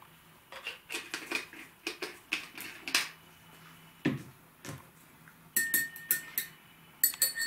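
A spoon clinks against a small glass cup while stirring tobacco soap into water, in quick irregular bursts of bright taps with short pauses, close and alone.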